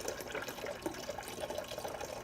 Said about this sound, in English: I'm getting water.